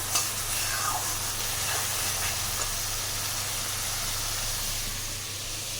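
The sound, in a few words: masala frying with cinnamon, clove, bay leaf, cardamom tempering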